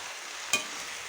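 Drumstick (moringa) leaves frying in a pan, a steady soft sizzle close by with one brief sharper scrape or crackle midway, no talking.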